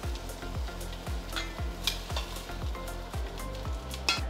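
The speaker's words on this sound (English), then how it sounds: "Make sure you sear these in batches in a single layer." Oxtails sear on an Instant Pot's sauté setting with a continuous close sizzle, broken by regular soft pulses and a few sharp spatters.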